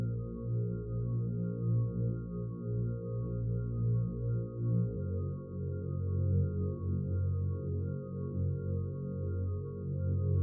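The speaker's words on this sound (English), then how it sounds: "we got the melody, which sounds like this." A simple breakcore melody plays as steady, mellow synth tones in the low and mid range, a sustained bass note shifting partway through, with no drums or voices and a moderate, even loudness throughout.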